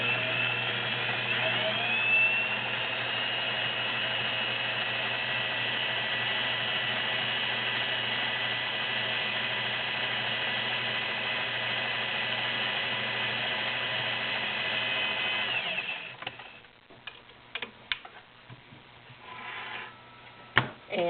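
Vintage Singer 401A Slant-o-Matic sewing machine running steadily while stitching a checkerboard pattern, a continuous close mechanical whir that stops and gives way to a few clicks and handling noises.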